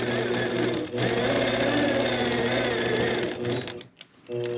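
A sewing machine fitted with a couching foot quilts with yarn, running in a steady, close, fairly loud hum that cuts out briefly near the one-second mark and stops near the end.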